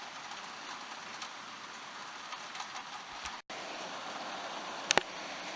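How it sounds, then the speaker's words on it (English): Heavy rain pours steadily in a dense, hissing wash, with a brief dropout and a couple of sharp clicks near the end. "Really intense rainstorm."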